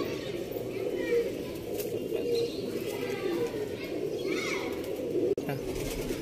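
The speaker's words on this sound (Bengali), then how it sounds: "দেখুন আরেকটা নর পায়রা দেখাচ্ছি।" A male pigeon coos steadily inside a pigeon loft while voices murmur in the background and a faint click lands near the end.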